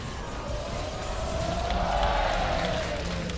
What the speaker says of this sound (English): Here we go, crowd. Here we go.